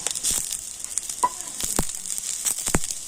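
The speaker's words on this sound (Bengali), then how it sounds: "টমেটোটা অনেকটা এবার ভেজে নেব" Chopped tomato with salt frying in a pan of onions, a soft steady sizzle with a few sharp crackles and stirring clicks, close and alone without talk.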